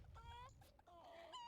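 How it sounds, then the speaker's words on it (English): A white hen clucks and calls in The Sims 4, a few short, faint, tonal honking squawks. "We now have a white hen"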